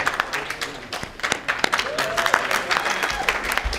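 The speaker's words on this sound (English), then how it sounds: "Give them a round of applause." Audience applause at a BronyCon 2014 convention panel, a crowd clapping steadily and densely throughout, fairly loud and close, with a few voices mixed into the clapping.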